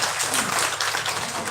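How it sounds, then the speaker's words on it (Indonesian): Crowd applause in a village quiz competition hall, dense and steady clapping filling the whole short stretch at close, loud level. "Mari kita berikan tepuk tangan yang meriah untuk mereka semua."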